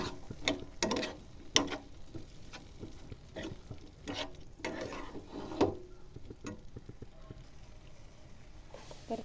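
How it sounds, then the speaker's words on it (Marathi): Boiled potato pieces sautéed in a pan while a spoon stirs them, giving a soft sizzle broken by sharp scraping clicks and taps against the pan at an uneven rhythm, fairly close and quiet. "तर तो बटाटा चांगला व्यवस्थित परतून घ्यायचा."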